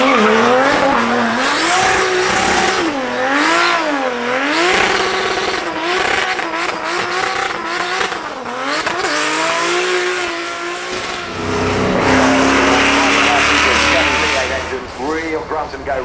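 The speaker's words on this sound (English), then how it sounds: "Real grunt and go race cars." Race cars at the Goodwood Festival of Speed hill climb, including a Euro NASCAR, roar up the course with loud revving engines, rising and falling gear changes and tyre squeal, passing close one after another, with talk over parts of it.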